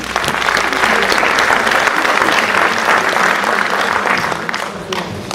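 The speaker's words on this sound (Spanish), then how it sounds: "la recibimos con fuertes aplausos" Loud, sustained applause from a large crowd welcoming a speaker at an education lecture, steady clapping throughout that tapers slightly at the very end.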